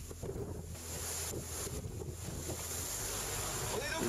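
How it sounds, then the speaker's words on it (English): Aboard an ocean racing sailboat in the Vendée Globe, the yacht runs fast downwind with rushing water, surf and heavy wind buffeting the microphone, while a voice speaks faintly. "We're sailing downwind, going rather fast."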